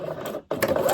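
A sewing machine with a short stitch length stitches two fabric pieces together in rapid close whirring, pausing briefly mid-way before running on.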